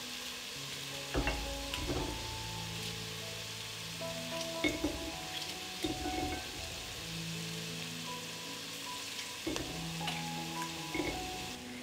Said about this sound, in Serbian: Dok se luk prži